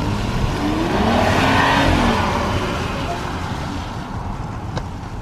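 A BMW X6 engine revs high, rising to a loud sustained drone heard from inside the cabin and then easing off slightly, with road and wind noise underneath.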